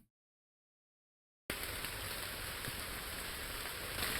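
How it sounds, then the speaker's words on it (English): Heavy rain starts abruptly after a stretch of silence and then pours on without a break, a dense, steady hiss of drops striking surfaces. "It's raining pretty hard, isn't it?"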